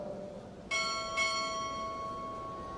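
A ship's bell struck during a Navy chief petty officer pinning ceremony at Recruit Training Command rings two clear strokes, the second following about half a second after the first, each leaving a bright ringing tone that lingers over a quiet room.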